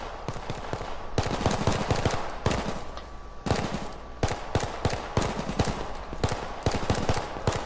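Rapid, loud pistol fire from the video game H1Z1, with dense bursts of shots and sharp cracks repeating throughout in quick succession.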